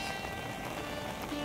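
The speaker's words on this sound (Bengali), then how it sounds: "এখন যেভাবে জোরে বৃষ্টি পড়ছে, মানে একটানা বৃষ্টি পড়ছে" Heavy, steady rain pouring at Panimur waterfalls in Dima Hasao, Assam, an unbroken dense hiss of drops on surfaces, faint and even with no pauses.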